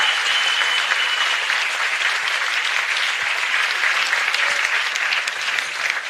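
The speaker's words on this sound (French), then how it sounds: "on peut faire un tonnerre d'applaudissements pour la cantine qui fait des repas toute" An audience at an evening gathering gives the canteen a sustained round of applause, dense, loud and even clapping from a large crowd throughout, no voices standing out.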